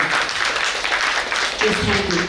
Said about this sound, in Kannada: ಮತ್ತೊಮ್ಮೆ ನಾವು ಅವರಿಗೆ ಕೈ ಚಪ್ಪಾಳೆ ಕೊಡುವ